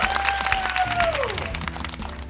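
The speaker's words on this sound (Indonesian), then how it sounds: "beri tepuk tangan yang meriah" An audience at a family celebration applauding warmly, dense continuous clapping close by, with a tone or feedback whistle sliding down beneath it.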